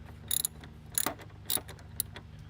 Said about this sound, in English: what we'll do is undo this 10mm bolt